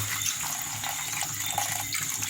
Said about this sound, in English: Now we're going to add to this some water